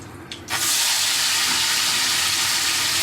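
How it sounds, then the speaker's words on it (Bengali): Mango pieces dropped into hot oil with mustard seeds and dried chilli, a sudden loud burst of sizzling that settles into a dense, steady crackling hiss close by. "এবার আমি আম দিয়ে দেবো এর মধ্যে"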